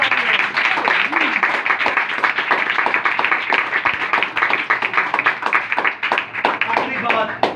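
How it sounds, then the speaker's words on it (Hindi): A church congregation claps loudly for Jesus Christ, a dense, continuous patter of many hands that runs the whole time, with voices calling out over it. "यीशु मसीह के पास जोरदार तालियां।"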